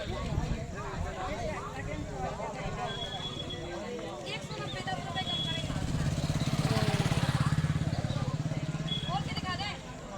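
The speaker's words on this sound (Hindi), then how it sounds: "कहाँ से आ रही मोटरसाइकिल ट्रैफिक है?" Motorcycles rumble past at the Sharad Purnima festival in Panna, a steady engine drone that builds louder toward the middle and then eases, with crowd sounds and voices mixed in.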